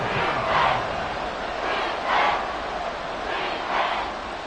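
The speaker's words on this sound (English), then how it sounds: "Well, this crowd into it now." Stadium crowd at an NFL game between the Bengals and Cowboys, a broad steady roar rising and falling in several swells, loud and continuous with no clear voices on top.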